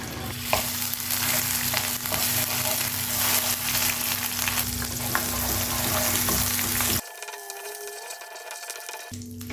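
A spoonful of animal butter hits melting homemade caramel, producing a loud, dense, steady sizzle and bubbling for about seven seconds before it cuts abruptly to quiet tonal hum and a faint clink.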